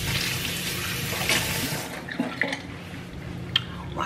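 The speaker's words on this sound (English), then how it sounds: "Wash my hands so I can bring the camera down a little bit." Tap water runs steadily into a kitchen sink while hands are washed during seafood boil preparation, a close, continuous splashing hiss with a few brief drips and knocks and no talking.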